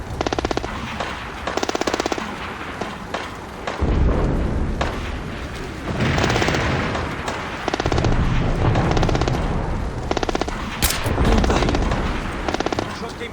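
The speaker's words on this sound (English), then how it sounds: "Shot came from over there." Repeated gunfire bursts from Splinter Cell Blacklist, loud and rhythmic, with automatic volleys and heavy booming shots spread across the scene, partly under muffled voices.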